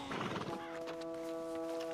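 A horse whinnies loudly with a shaky, descending neigh, then a sustained tonal ring lingers with soft background noise.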